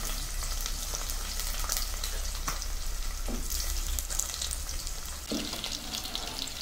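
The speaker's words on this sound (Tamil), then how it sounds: "நம்ம நறுக்கி வச்ச வெங்காயம், பூண்டு, பச்சை மிளகாய், கருவேப்பிலை எல்லாத்தையும் போட்டு வதக்கணும்" Onion, garlic, green chilli and curry leaves sauté in hot oil for a coconut-milk fish kolumbu, a constant loud sizzle with occasional scrapes and taps of stirring and no speech.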